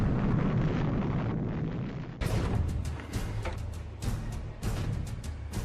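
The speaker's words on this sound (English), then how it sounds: "imagine their reaction to the detonation of the father of all bombs" The Father of All Bombs, a huge air-dropped thermobaric bomb, detonates in a loud, sustained roaring blast with rumbling low end, followed by a run of sharp secondary bursts and crackles.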